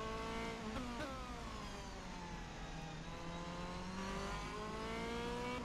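DTM race car engine in the rFactor 2 video game, a continuous high-revving whine that climbs and drops through gear changes, steady and fairly faint, with no talk over it.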